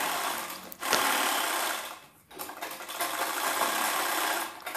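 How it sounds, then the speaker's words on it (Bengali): A sewing machine stitching a bra-cut blouse, its fast motor whirring close and steady in two runs, stopping briefly in between before starting up again, with no voices. "এরকমভাবে তারপরের পার্টটাকেও এরকমভাবে সেলাই করে কমপ্লিট করছি"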